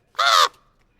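A single harsh raven caw, loud and close, lasting under half a second and then fading into silence.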